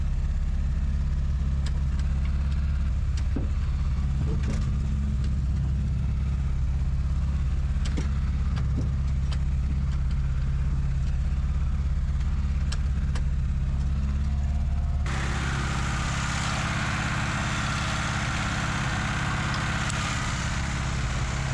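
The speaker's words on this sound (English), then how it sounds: "you hear that sound? This engine's got some serious power." The engine of an abandoned Toy Story Buzz Lightyear car runs at a steady idle, a low continuous rumble with faint clicks. It turns harsher and louder partway through, as if revved or heard from closer.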